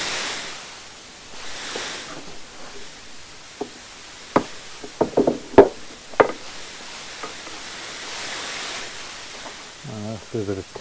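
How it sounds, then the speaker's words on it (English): A steering part is knocked loose during a Ford Transit van's conversion to Toyota Prius electric power steering, with a run of sharp metallic hammer knocks, some quick and clustered, in a quiet workshop. Someone speaks briefly at the end. "we should be able to knock that out now"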